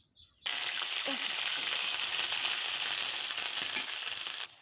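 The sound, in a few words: onion paste frying in hot oil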